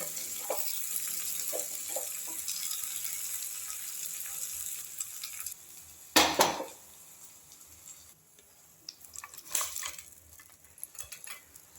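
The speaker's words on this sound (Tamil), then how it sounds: "தாளிப்பை குருமாவில் சேர்த்தாச்சு." Sizzling tempering is poured into a potato kurma, with a faint sizzle, a sharp loud burst about midway, then scattered pan and utensil clatter.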